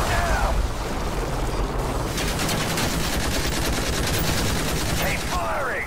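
Sustained automatic gunfire aimed at a helicopter in Call of Duty: Modern Warfare 3, a loud, dense rattle of rapid shots with no break, plus brief whooshing effects near the start and end.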